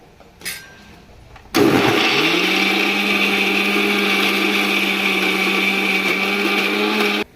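Mixer grinder grinding masala paste with ginger garlic paste, starting with a brief clatter then a loud, steady high-pitched whirr running for about six seconds before cutting off.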